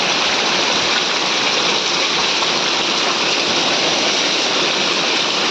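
Heavy rain pours down outside a house, with water flowing and pooling in the courtyard, making a dense, steady, loud hiss that stays unbroken throughout.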